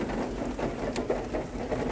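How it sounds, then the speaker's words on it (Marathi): Steady rain falls across a large open playing ground, a constant close broadband hiss with no pauses and no voices heard. "आता इथे पाऊस पण येतोय"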